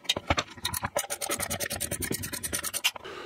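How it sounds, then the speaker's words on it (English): A nylock nut is tightened down with a screwdriver during lift system assembly, giving a rapid series of close, dry scraping and ratcheting clicks in a steady rhythm for about three seconds. "and then tighten the nut down"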